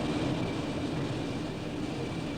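Train ride out of a rain-soaked Coventry station in 1966, a continuous dense rumble and rattle of the carriage running steadily throughout.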